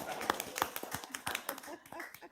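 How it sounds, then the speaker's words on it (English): A small group at a city council work session gives a speaker a round of applause, scattered uneven claps close by with voices talking over them. "can we give him a round of applause?"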